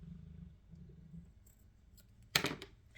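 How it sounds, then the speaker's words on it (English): Scissors trimming fabric during quilt block piecing, a single short crisp snip near the end after a quiet stretch with a low hum. "Just take your scissors,"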